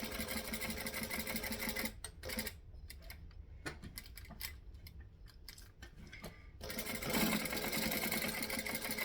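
A sewing machine stitches through vinyl in fast, even mechanical bursts, with a short pause mid-seam where the needle stops for a pivot before the steady whirring resumes, close and alone.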